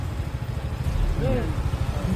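A motorcycle idles with a low, steady, pulsing rumble throughout, while a voice is briefly heard over it.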